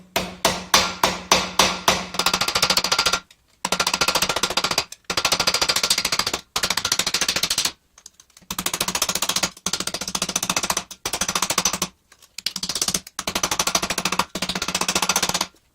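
A hammer strikes a metal pikeman's pot cheek piece against a helmet comb, starting with a few separate ringing blows and then settling into fast, dense bursts of rapid hammering broken by short pauses, close and loud.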